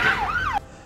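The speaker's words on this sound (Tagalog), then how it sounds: "Sunod-sunod sab ang pag-abot sa Davao City Central 911 Urban Search and Rescue Team ug ambulansya." A wailing ambulance siren from an arriving urban search and rescue team, rising and falling once, loud and close, then cutting off abruptly partway through the short burst.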